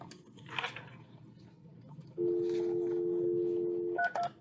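A phone keypad dialing out for a call: a few short dual-tone beeps after a stretch of low room noise, then a long steady tone near and clear, followed by brief beeps.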